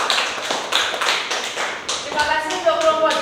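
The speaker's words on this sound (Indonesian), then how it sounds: "beri tepuk tangan yang meriah untuk kelompok 2" Students in a fashion design class applaud a group presentation with a burst of quick, close hand claps. A voice starts speaking over the tail end of the clapping.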